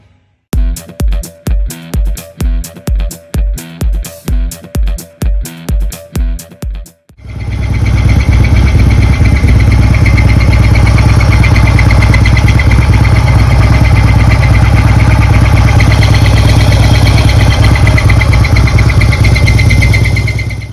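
A Harley-Davidson 110 CVO engine with an internal squeak: first rhythmic cranking pulses for several seconds, then it catches and settles into a loud, steady, rumbling idle with a continuous high whine.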